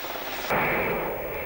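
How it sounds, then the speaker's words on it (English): A Westland Whirlwind search and rescue helicopter from RAF Valley, Anglesey, gives a loud, broad engine and rotor roar that suddenly swells partway through and holds steady. "This is a Westland Whirlwind from the search and rescue flight at RAF Valley in Anglesey."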